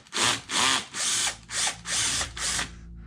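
A power screw gun backs bolts out of a Losi Super Baja Rey RC truck during a teardown, firing six short whirring bursts in quick succession with brief gaps between them.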